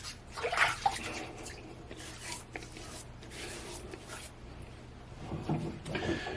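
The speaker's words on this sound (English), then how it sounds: "the first thing I'm going to do is go ahead and wet my face" Water is splashed onto the face by hand just after a shower, before a wet shave: soft, close, repeated splashes and wet rubbing with a few drips, fairly quiet and without talking.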